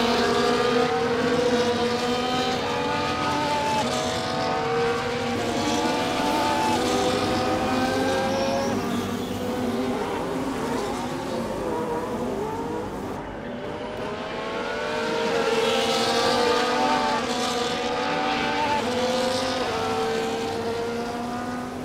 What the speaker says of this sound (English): Cars come back to the grid to line up for the start of the race.